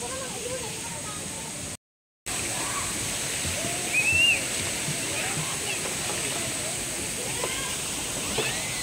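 Steady rushing river water flows continuously with a broad hiss at Villa Escudero resort, while voices talk faintly over it; the sound drops out briefly near the start.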